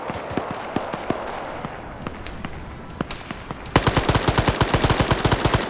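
A grenade goes off in a multiplayer PvP shooter match, with a sudden loud burst that gives way to rapid, evenly spaced automatic gunfire, following scattered single shots and distant popping.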